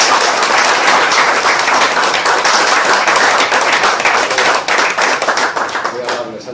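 An audience claps and applauds at a book presentation for a novel, a dense burst of many hands close by that holds steady, then thins and fades toward the end.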